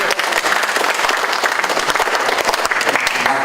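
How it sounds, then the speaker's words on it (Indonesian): An audience at a thanksgiving and reunion gathering claps steadily throughout, a dense, even applause that stays loud from start to finish with no voices standing out. "kita berikan tepuk tangan."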